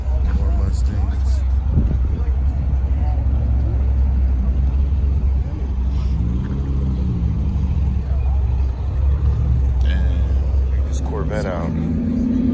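Ford Mustangs roll past at a Street Runners street car meet, a loud continuous low engine rumble and traffic drone, with people talking close by throughout.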